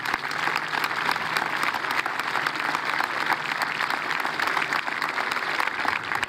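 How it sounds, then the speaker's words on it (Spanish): A crowd at a children's football inauguration in San Antonio claps loudly and continuously, a dense, sustained round of applause with no speech on top. "un fuerte aplauso para Héctor Gato Rojas"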